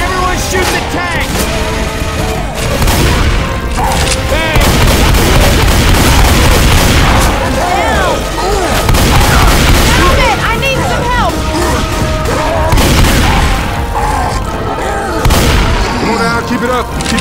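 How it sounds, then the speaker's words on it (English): Rapid gunfire from a squad of survivors shooting at the Tank in Left 4 Dead 2 on the Death Row map, Expert Realism, sustained and loud with booming impacts and music throughout, under shouted team voices. "Everyone shoot the tank."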